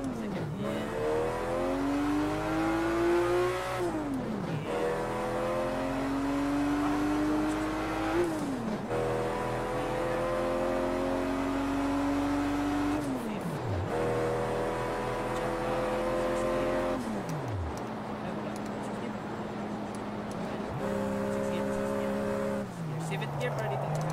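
A race car engine in the Project Cars 2 driving game, played with a PXN V9 wheel, revs loudly and without a break. The pitch climbs repeatedly and drops sharply at each gear change.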